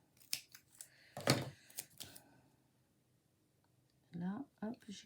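Scissors snipping through card paper while making handmade greeting cards, a quick cluster of sharp cuts early on with a quiet gap, followed by someone speaking softly in French.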